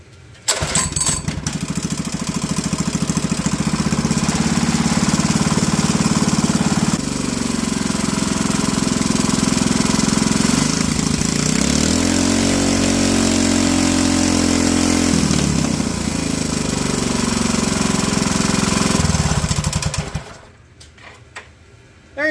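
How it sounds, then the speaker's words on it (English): A Honda GX200 small single-cylinder engine fitted with 3D printed connecting rod parts runs loud and close, a steady rough drone that shifts pitch midway and cuts off near the end. "let's verify the engine actually works correctly"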